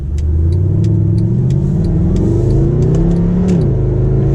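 Mercedes SLS AMG engine accelerates steadily, a loud, close, continuous mid-pitched roar that climbs through the revs with a brief dip near the end, heard alone without talk.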